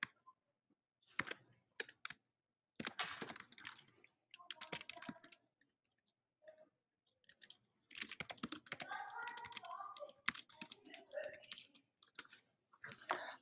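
Computer keyboard typing into a text box in a drawing program comes through as close, quiet bursts of rapid key clicks, separated by brief pauses and some heavier presses.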